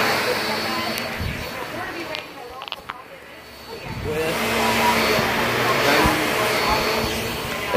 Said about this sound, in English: This is the Shark Navigator.